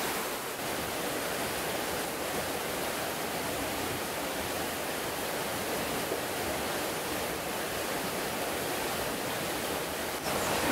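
Stream flowing beneath a bridge during a cycling trip in China, a steady, even rushing of water heard close and alone throughout.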